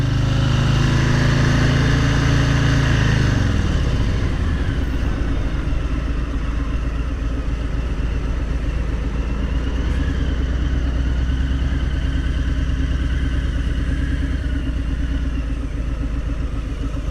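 A Harley-Davidson Street Bob (FXBB) motorcycle engine rumbles loud and close while riding, with a downshift-like drop in pitch early on and then a steady, throbbing low drone.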